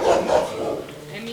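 A dog barks at a kennel where a German Shepherd mother is kept with her puppies, with loud, close barking and yips in the first half, mixed with kennel noise and some speech.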